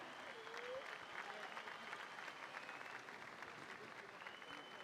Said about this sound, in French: Je vous demande donc de lui faire des applaudissements comme il se doit.